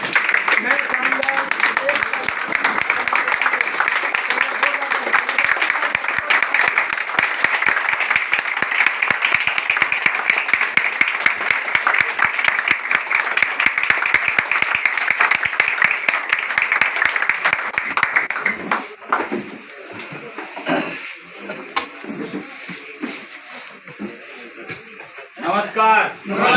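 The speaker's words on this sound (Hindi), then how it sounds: "मैं चाहूँगा एक बार जोरदार ताली खड़े हो जाए" Loud, sustained applause from a large seated audience at an RCM business seminar, dense clapping that fills most of the stretch before thinning into scattered claps and talk near the end.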